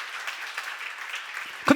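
Audience applause at a seminar on First Corinthians chapters 2–3, steady scattered clapping of moderate loudness from a room full of listeners, with a louder burst at the very end.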